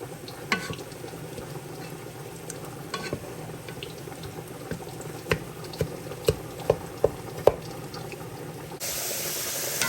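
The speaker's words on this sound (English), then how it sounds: "I'm going to let it cook this water out." Water deglazing a pan of fried squash and simmering off, a low steady bubbling hiss with occasional sharp pops and clicks.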